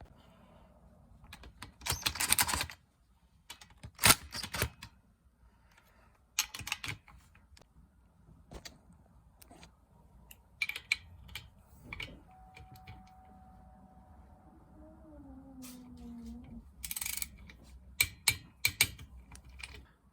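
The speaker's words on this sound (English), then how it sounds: "now I'm just gonna zip them in the rest of the way with the impact wrench" An impact wrench zips bolts into a 1978 Yamaha DT175E engine during reassembly, several short, sharp rattling bursts separated by quiet pauses, close up and with no talking.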